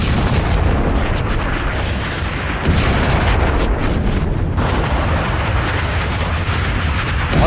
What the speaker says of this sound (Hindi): ये मिसाइल जैसे गिरा, देखिए धमाका है। ये बस सुनिए।